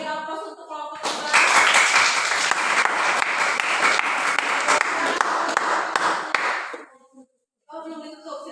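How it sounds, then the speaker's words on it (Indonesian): A classroom group claps for the second student group's poster presentation, dense sustained applause for several seconds that fades out, with spoken voices before and after. "kita beri aplaus untuk kelompok 2"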